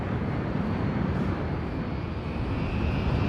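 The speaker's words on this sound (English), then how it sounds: "planes just flying by lah," Airplanes flying low overhead on approach near Subang airport, heard as a steady, loud broadband engine roar that persists throughout with no talking.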